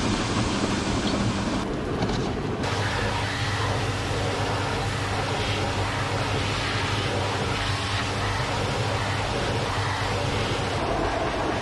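Water spraying steadily from a hose to wash built-up debris out of a grain dryer fan, a continuous broadband hiss that stays loud and even throughout, with no talk.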